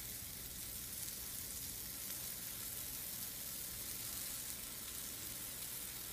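Waffle batter hitting a hot cast-iron 1901 Griswold waffle iron, a dense continuous sizzle and crackle heard up close, steady and quiet throughout with no talking.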